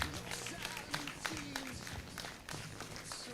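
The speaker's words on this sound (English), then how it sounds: "Let's give it a round of applause" An audience applauds at the launch ceremony of the Uganda Printing and Publishing Corporation's five-year strategic plan. The clapping is a faint, diffuse wash from a crowd, heard from a distance with some scattered louder claps.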